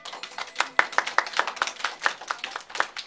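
Several hands clapping together in a fast, steady flurry of crisp claps, close and fairly loud, lasting about three seconds with no talking.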